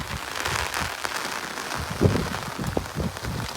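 Steady rain falling during a monsoon downpour, a dense continuous hiss of drops with a brief louder patter near the middle, heard close and without talk.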